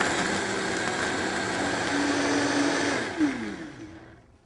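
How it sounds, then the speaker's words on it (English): A Vitamix blender running its smoothie preset whirs loudly and steadily up close, then winds down and stops automatically near the end. "Press on and it'll stop automatically when the mixture is completely blended."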